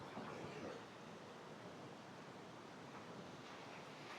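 Flea Creek runs at a fair flow near where it joins a river in the Brindabella ranges of Kosciuszko National Park, giving a steady, even rushing wash with no voices.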